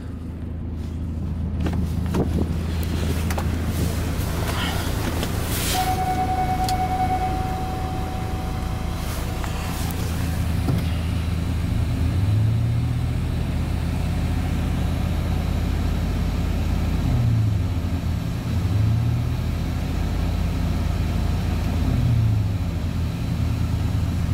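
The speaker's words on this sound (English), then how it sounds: "engine's running decent. Get you inside, rev it for you" A 2003 Cadillac Escalade engine runs steadily at a close, loud idle for about 24 seconds, with several brief revs rising above the low rumble and a short tonal whine partway through.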